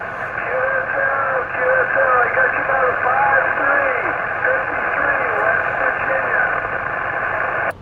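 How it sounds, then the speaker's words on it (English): A ham radio contact during a Parks on the Air activation comes through over steady, loud static hiss that runs throughout, with a faint voice buried in the noise. "You got a lot of static here."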